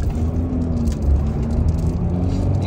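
Maruti WagonR ZXI 1.2 accelerating hard from a standstill, a steady in-cabin engine drone with a rising tone and road rumble, continuous and fairly loud throughout.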